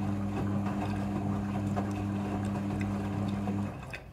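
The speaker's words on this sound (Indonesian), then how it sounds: "proses pembilasan kedua ini, pewangi pakaian akan otomatis masuk bersama air ke dalam mesin cuci" A front-loading washing machine running its second rinse while washing a thick blanket, water sloshing steadily with a low motor hum, which cuts off near the end.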